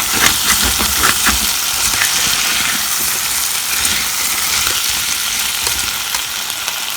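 Sun-dried mushrooms and potatoes fry in a pan with a steady, loud sizzle, with stirring and scraping sounds as the mixture is mixed, continuous throughout.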